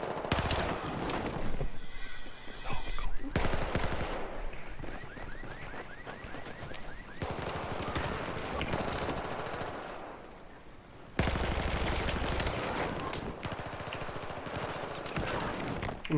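Sustained automatic gunfire from a Battlefield 4 match in a competitive 5v5 tournament final, loud and dense, with rapid bursts broken by short pauses and shifts in intensity across the stretch.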